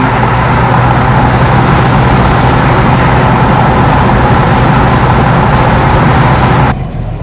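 A 1977 Pontiac Trans Am with a 455 engine drives along, a loud, continuous rumble of engine and road noise that holds steady throughout and drops away in the last moment.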